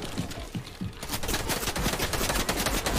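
Rapid bursts of gunfire crackle in the Fortnite video game. The shots come close and dense, sparse at first and then a nearly continuous volley.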